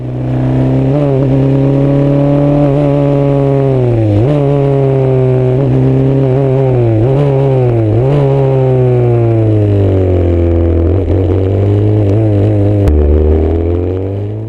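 An F3 single-seater lapping Paul Ricard screams loudly from close up, its engine pitch rising through gears then dropping sharply on downshifts, repeated in quick cycles with no talk.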